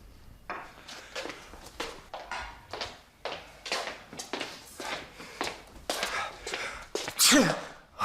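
Busy indoor scene with repeated taps and clatter, then a sharp, loud sneeze bursts out near the end, close by.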